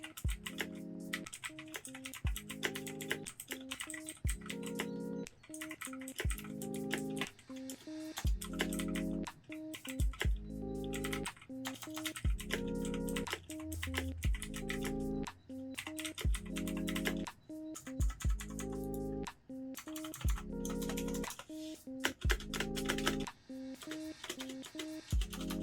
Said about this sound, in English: I do want to test out these clicky switches. So let's load up our typing test here.